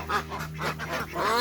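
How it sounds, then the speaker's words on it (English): Geese and ducks honk and quack in a close, busy chorus of overlapping calls as they are let out onto a ranch's back pasture. "We're gonna let the geese and ducks out on the back pasture for the day today."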